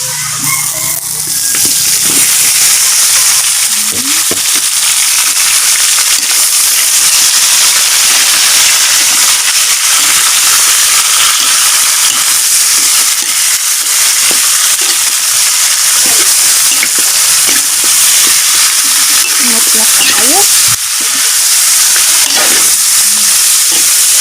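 Pork sizzling and frying in a pan for adobo in the Philippine countryside, a loud, steady hiss that runs almost without a break, with occasional stirring clatter and a rooster faintly in the background.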